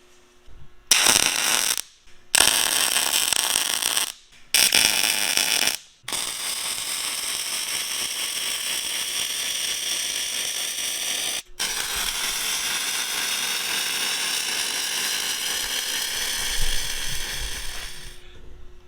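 Arc welding on a custom drill pipe man gate being fixed in place, a steady close crackling buzz in several short bursts at first, then one long continuous run broken by a single brief pause.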